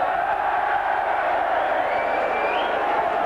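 Saints supporters at a 1993 St Helens versus Halifax rugby league playoff roar and cheer in a sustained, loud crowd swell, with a whistle-like tone rising near the end.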